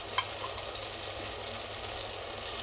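A spice paste of green chilli, coriander and mint sizzles steadily in a pan for mixed vegetable pulao, a close, even frying hiss with occasional soft stirring scrapes.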